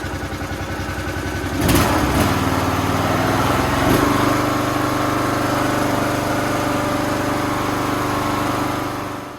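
A Toro Z420 Timecutter riding mower, fitted with a replacement engine after a blown motor, idles steadily up close with a smooth, even drone. Two brief louder surges swell near the start before it settles back to a constant hum.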